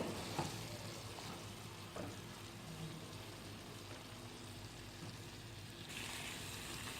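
Creamy chicken sticks cook uncovered in a pan until fully dry, giving a faint, steady sizzle with a few small pops and no voices.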